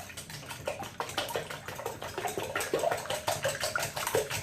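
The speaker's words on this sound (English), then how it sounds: "I just turn the spigot on and run my bowl under it for a brief second" Faucet water runs and splashes into a bowl, a continuous soft gurgling stream with small sloshing spurts, close by and fairly quiet.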